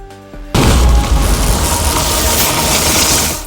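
A phosphorus bomb detonates in a film scene, a sudden loud booming blast that swells into a long roaring, crackling rumble lasting several seconds before tapering off.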